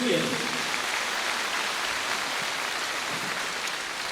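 Steady audience applause fills a folk concert hall at a Silesian festive gala, a continuous even wash of clapping from start to finish.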